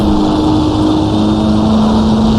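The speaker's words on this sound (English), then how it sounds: "shifting well into the red line, really maxing out the engine on the Porsche here" A Porsche engine in the Assetto Corsa racing game, driven on the vintage Gnoo Blas circuit in rural Australia, holds a loud, steady high-rpm drone near the redline throughout with no gear change audible.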